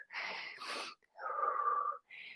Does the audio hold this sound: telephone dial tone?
no